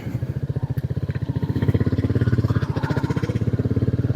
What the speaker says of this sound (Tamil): அந்த இன்ஜினோட சவுண்ட், ராயல் என்ஃபீல்டோட சவுண்ட் அதுவுமே ரொம்ப சூப்பராக இருக்குது